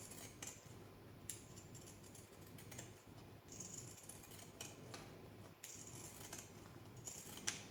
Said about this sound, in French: je prends mon petit ciseau cranteur et je vais faire tout le tour avec